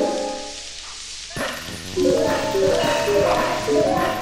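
Wolf Link barking in The Legend of Zelda: Twilight Princess, a few short game barks amid chiming musical notes after a quieter opening.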